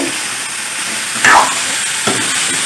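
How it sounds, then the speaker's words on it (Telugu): Tender bottle gourd curry stirred in a pan over a steady frying sizzle, with one brief scraping stir of a spoon and a lighter clink soon after. "ఇప్పుడు కలుపుకోవాలి"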